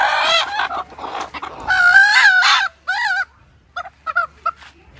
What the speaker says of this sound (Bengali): একদম পিওর দেশি মুরগি।